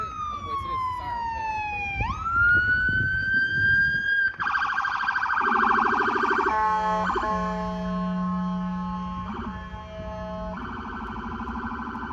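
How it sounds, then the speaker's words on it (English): Emergency vehicle siren sweeping up and wailing loudly, then switching to a rapid yelp pattern with tonal bursts as it passes close by outdoors, continuous for the whole stretch. "I'm gonna wait till this siren"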